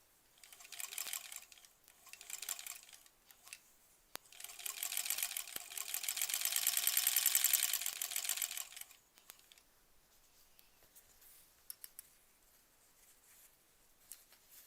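A sewing machine stitching quilt sashing runs in fast, whirring bursts: two short runs, then a longer steady stretch, with quiet clicks and handling sounds in the pauses.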